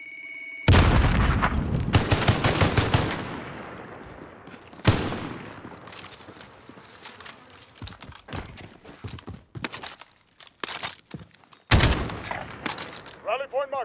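Frag grenade explosion in a video game: a heavy boom opens a long rumbling decay, followed by scattered gunshots and bursts, then another loud blast near the end.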